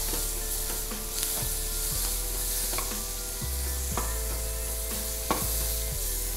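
Onions sautéing in a pan with oil, a steady sizzle under repeated scraping stirs that fall every second or so, close and continuous with no voices.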